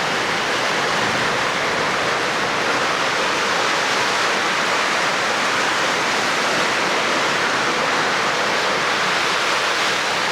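Heavy rain pours steadily onto a leaking house roof, a dense continuous roar of broadband wash with no breaks, loud and close throughout.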